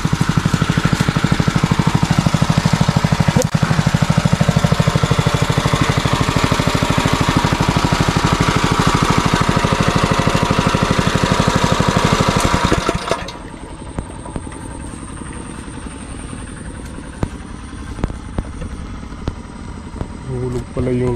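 A small machine engine, likely driving a water pump for irrigation, runs loud and steady with a rapid, rattling chug, then cuts out abruptly, leaving a quiet outdoor background with scattered small knocks.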